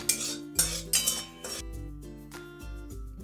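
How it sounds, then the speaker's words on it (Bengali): A metal utensil stirring spices with a pinch of hing and sugar in hot oil in a pan, giving several sharp clinks and scrapes against the metal, close and clear with no talk. "হালকা একটু নাড়াচাড়া করে নেব।"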